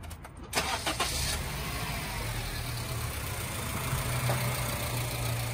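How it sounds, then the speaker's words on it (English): A Honda Civic engine cranks briefly and catches, then settles into a steady idle, close by. "all I have to do is start the car."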